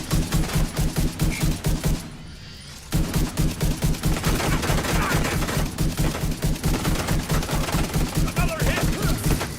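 Rapid, steady turret gunfire in a video game pounds close and loud in a long rhythmic burst, pausing briefly before resuming, with a voice calling out over it.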